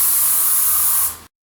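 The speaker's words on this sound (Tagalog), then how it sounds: "Sige, Devil Search Spray." A loud, close aerosol blast from the Devil Search Spray, a steady bright hiss lasting about a second before tapering off and stopping abruptly.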